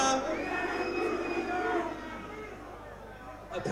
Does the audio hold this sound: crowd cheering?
yes